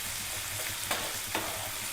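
Onions sizzling and frying in a pan for South Indian tomato rice, a steady close hiss with faint stirring clicks.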